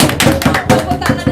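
Applause from a small group, a quick run of about eight bright hand claps in a steady rhythm, close and loud.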